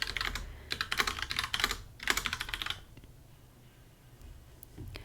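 Someone types on a keyboard to fill in an iPad planner, with quick bursts of close key taps separated by a short pause. The typing fades into quiet handling noise.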